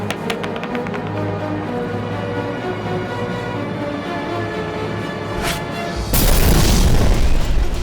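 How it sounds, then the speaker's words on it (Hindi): A loud bomb blast rips through a van in an action film scene, a sudden dense roar bursting in near the end after a steady rumbling buildup, with no talk. "अनफॉर्चुनेटली वहां पर बॉम्ब ब्लास्ट हुआ। उसमें वैन के चिथड़े उड़ गए।"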